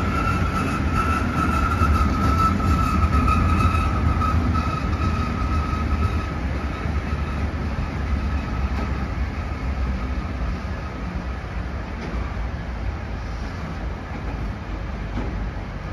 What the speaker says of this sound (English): The train now approaching platform 6 must not stop here.